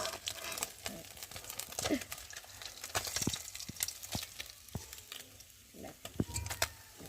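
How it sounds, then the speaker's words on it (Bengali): Parshe fish fry in hot oil in a kadai, giving faint, irregular crackles and spitting pops with scattered sharp snaps across a quiet background. "মাছগুলো ভেজে তুলে নিয়েছি, আর দু পিস রয়েছে সেটাকেও ভেজে তুলে নেব।"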